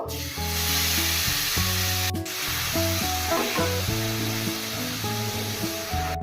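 Spice paste frying in hot oil for a Bengali pomfret curry gives a steady, loud sizzle that runs the whole time beneath prominent melodic background music.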